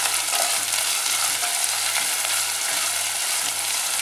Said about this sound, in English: I'm going to cook the onions till it becomes nice and brown